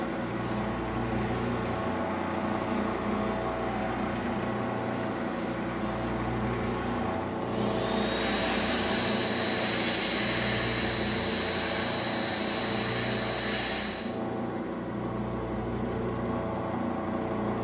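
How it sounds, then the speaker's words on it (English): A soft 280 grit diamond wheel grinds a hard stone cabochon, giving a steady, loud whirring hum with a broad hiss that brightens and intensifies for several seconds mid-stretch, with no talk. "Next up is the 280 grit soft diamond wheel."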